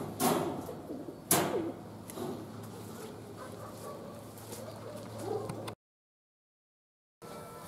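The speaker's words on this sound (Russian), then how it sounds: "Это тоже голубь" A pigeon of the Mariupol line, a bred male, coos in a loft, low soft calls beside a couple of sharp flapping bursts, then a brief gap of silence; no speech.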